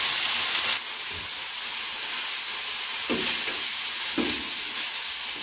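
Bottle gourd peel curry tipped into a pan of fried onions, a loud hissing sizzle that drops back after the pour, then a softer steady sizzle broken by a couple of stirring scrapes.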